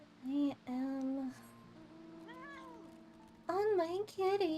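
A cat mount meows repeatedly in Final Fantasy XIV: Heavensward, several short tonal meows with a pause between them, fairly quiet over a low game music bed.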